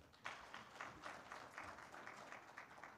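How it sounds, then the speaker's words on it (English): Audience applause at a TB and leprosy stakeholders' conference, a faint, distant patter of clapping hands lasting a few seconds with no talk over it. "Another round of applause for Amanya."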